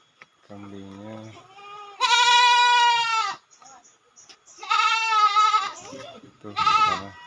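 Goats bleat from a pen in a rural village, several loud, wavering cries close by, one after another with short pauses between.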